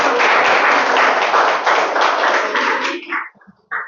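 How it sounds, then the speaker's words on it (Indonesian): Audience applause rings out at a school presentation in Samarinda, dense, steady clapping that fills most of the clip before thinning out into a few scattered claps near the end. "Tepuk tangan."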